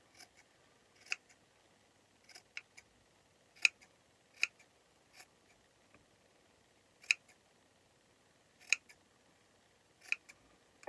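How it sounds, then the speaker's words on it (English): A rotary cutter slices buffalo check fabric into fringes, making faint, sparse clicking and crunching snips at irregular intervals in an otherwise quiet room. "I'll take my rotary cutter and just go with the line of the check here."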